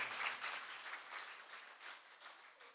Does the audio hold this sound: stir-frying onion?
no